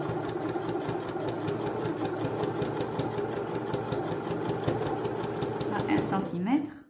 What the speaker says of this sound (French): je vais coudre une partie,